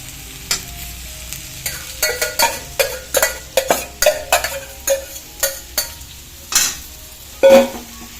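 A spoon scrapes and stirs cooked breadfruit (kadachakka) in a hot pan over a faint sizzle, a series of close, sharp strokes in an uneven rhythm, one louder clatter near the end, no voices.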